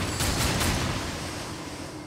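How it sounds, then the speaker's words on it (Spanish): Gunfire in the action video game Darksiders II: a dense, noisy burst of rapid shots and booms fills the whole stretch, loud and continuous with a few sharper cracks near the start, no voice over it. "Balazo, balazo, balazo para todos."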